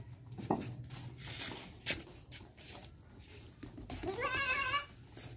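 Goats bleat close by at a livestock market where goats and sheep are for sale, one short cry early and a longer wavering bleat near the end, with shuffling and handling noises between.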